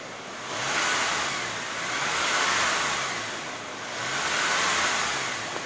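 A car engine revs up to about 2500 RPM, a broad, steady roar that swells and eases back twice at a moderate distance.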